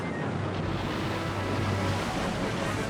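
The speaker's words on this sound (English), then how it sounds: "It's a flood!" Loud, continuous rushing water roars steadily with a constant low rumble, like a powerful surge of floodwater.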